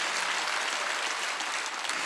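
A church congregation at a Wednesday service claps together, a steady, even roar of many hands heard at moderate volume, slightly distant and without talk over it.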